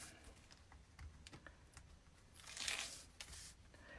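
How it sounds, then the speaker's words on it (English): Quiet crackle and rip of small adhesive craft tape torn apart by hand, a few short tearing bursts close by with no talking. "And this small tape I use really a lot. So it's easy to tear apart."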